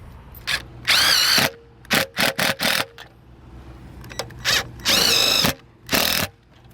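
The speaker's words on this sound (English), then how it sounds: "we're going to go ahead and we'll shoot 2 screws into the bottom and then 2 into the middle" Cordless power drill driving screws into an RV awning bracket on a 2007 Four Winds Chateau, several bursts of whining motor, some long and some short trigger pulses, close and loud with quiet gaps between.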